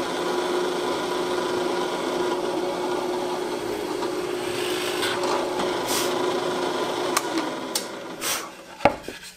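A drill bores steadily through a board while a shooting board is being made, giving a continuous grinding whir of wood being cut, with a few sharp knocks and clatters near the end.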